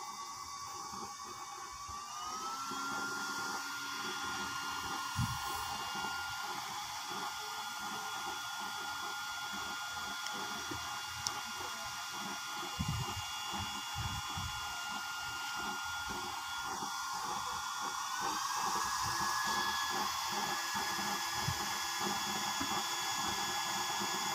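A small aerator blower fitted to a homemade oil stove whirs steadily for a long stretch, a constant high whine with a faint pitch shift partway through and a few soft knocks underneath.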